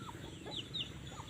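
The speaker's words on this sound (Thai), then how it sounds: "นอกนั้นก็จะมีแต่ไก่จ้า ไก่หลายตัวค่ะ" Chickens on a rural Thai farm cluck softly in a few short, scattered calls, fairly faint over a low ambient hum.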